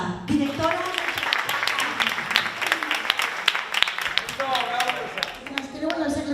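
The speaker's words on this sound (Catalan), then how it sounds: "un fort aplaudiment i la dediquem amb molt de carinyo a Elsa, directora." Strong applause from an audience at a Carraixet Massanassa event in 2016, dedicated to director Elsa, with dense broadband clapping over a voice in the foreground throughout.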